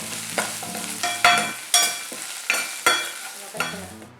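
Chutney ingredients with roasted gram and tamarind are sautéed in a pan, a close, rhythmic series of sharp spatula scrapes and knocks about every half second over a light sizzle.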